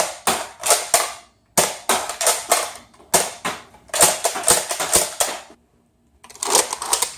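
A Nerf Strongarm blaster fires foam darts in bursts of slam fire and single shots, giving a string of sharp, close plastic clacks and pops with short pauses between groups.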